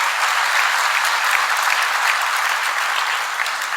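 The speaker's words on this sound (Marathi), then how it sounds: "चोहो बाजूनी टाळ्यांचा प्रचंड कडकडाट उठला" Loud, dense applause from a crowd at the finish of a marathon, steady and continuous, then tapering slightly at the end.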